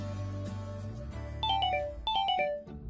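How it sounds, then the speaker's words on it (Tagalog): A cellphone ringtone plays alone, a melodic electronic tune with a low synth bed and bright rising chime notes, close and steady. "biglang nag-ring yung cellphone ko"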